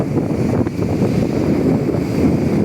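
Strong wind gusts buffet the microphone at sea amid five-foot waves, a steady loud rumbling roar of wind and surging water with no break.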